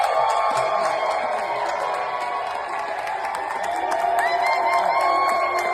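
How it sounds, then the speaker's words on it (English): A crowd cheers and whoops in a played news clip from a political rally, a steady, loud wash of voices and applause with scattered shouts throughout. "You can see people cheering here."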